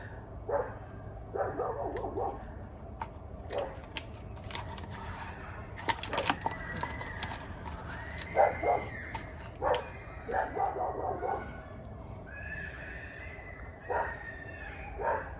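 Dog barking in a neighbours' yard behind the house while kids play, heard as scattered faint, distant barks and yelps spread irregularly over a quiet outdoor background.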